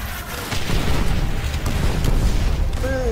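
A grenade blast in the video game Call of Duty: World at War gives a heavy, rumbling boom that swells and rolls on for several seconds, with a brief high whistling tone at the end.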